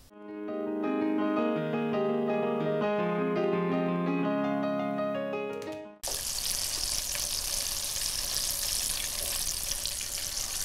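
Apple fritters frying in oil in a pan, a loud, close, continuous sizzle and crackle that starts abruptly after a few seconds of music.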